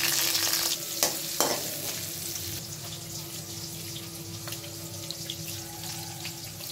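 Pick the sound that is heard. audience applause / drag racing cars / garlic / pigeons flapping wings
garlic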